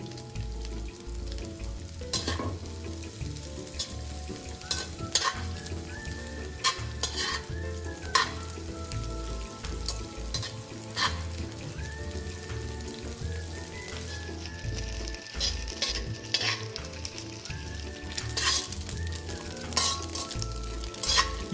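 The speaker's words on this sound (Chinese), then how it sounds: "在中火油炸至香脆。" Small dried anchovies deep-frying in oil over medium heat in a wok, giving a steady close crackling sizzle with occasional stirring clinks, continuous throughout with no voices.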